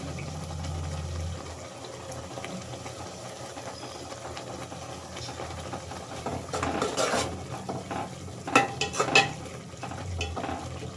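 Puliyogare tamarind mixture simmering in a pan as it is stirred, with a steady low bubbling bed and scattered scraping and clinking of a utensil against the pan, busier toward the end; no talking.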